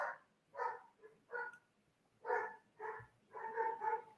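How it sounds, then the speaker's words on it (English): Dogs in a home bark several times in short, irregular bursts. The barks are fairly quiet, some come in quick doubles, and no one talks. "can somebody in my family stop the dogs?"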